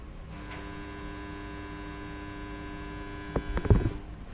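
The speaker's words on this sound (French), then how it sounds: "Voilà le bruit insupportable de la vis sans fin qui ne tourne pas." Steady electric hum from a stalled pellet stove auger motor, droning evenly throughout with no pellets falling, followed near the end by a few soft clicks and knocks.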